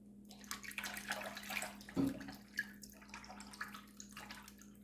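A shaving razor rinsed under a running tap, with a steady wash of water, a few drips and one brief clunk partway through, close and moderately quiet, with no voices.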